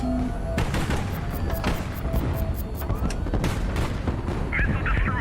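Flares and heavy gunfire in the Highfleet airship strategy game: dense, continuous bursts of shots and booms with sharp repeated cracks, loud and close throughout.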